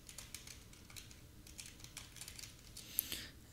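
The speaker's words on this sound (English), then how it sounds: "here we're gonna type username" Quiet, irregular clicking of keys on a computer keyboard as a username is typed, a run of close, light taps with short pauses and no voices.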